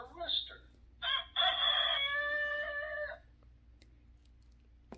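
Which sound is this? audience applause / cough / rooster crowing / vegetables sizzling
rooster crowing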